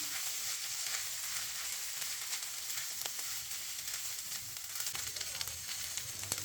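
Pre-washed chinigura rice fries in a pan with swollen raisins for chicken biryani, giving a steady, close sizzle and crackle with a few faint stirring scrapes and no talking.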